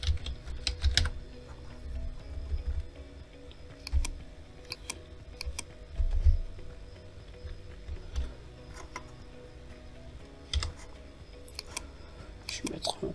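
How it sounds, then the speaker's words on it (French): Computer keyboard keys tapped in short scattered bursts while text is entered in Photoshop, light and close, with a low steady room hum beneath and no talking over the clicks. "Je prends mon outil, j'écris HK Management."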